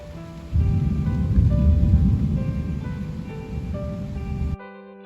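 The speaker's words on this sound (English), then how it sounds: "The night thunder and lightning show made sleep difficult." Steady heavy rain pours down with a low rumbling roar beneath it, like a distant thunderstorm, continuous for several seconds before cutting off abruptly.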